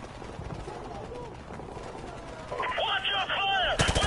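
Gunfire in Call of Duty Modern Warfare Remastered, with a rumble of distant shots building into louder close bursts near the end, while voices talk over the action.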